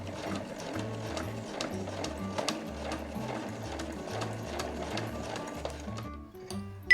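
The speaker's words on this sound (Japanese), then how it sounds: "では端から縫っていきます。" A sewing machine stitches a body bag at a steady, rapid mechanical clatter with a low rhythmic thump, running continuously up close before stopping near the end.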